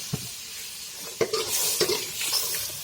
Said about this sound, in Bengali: মটর ভালো করে ভাজি করে নেব।